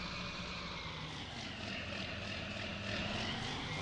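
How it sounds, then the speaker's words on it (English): John Deere tractor engine in Farming Simulator 19 drones loudly and steadily, a close continuous mechanical roar with a slight pulsing hum and no talk. "this John Deere is incredibly loud"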